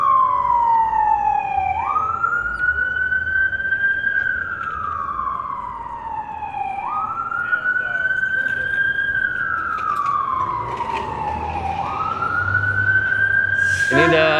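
Ambulance siren passing through downtown Los Angeles, a loud rising-and-falling wail repeating in long sweeps over steady traffic noise, ending with a short burst of horn.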